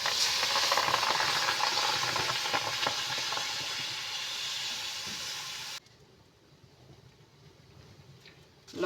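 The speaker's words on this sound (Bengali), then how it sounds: "এবার আমি জল দিয়ে দেবো।" Taro leaves in a pan give a steady, loud hiss and sizzle as water goes in, then the sound drops abruptly to a quieter low simmer for the last few seconds.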